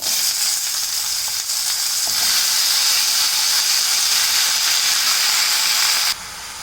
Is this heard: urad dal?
yes